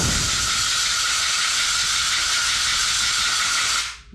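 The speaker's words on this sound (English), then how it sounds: "And I'm just gonna blow with my compressed air." Compressed air blasts continuously into a computer fan and its back grill to clear out dust, a loud steady hiss lasting several seconds before cutting off abruptly.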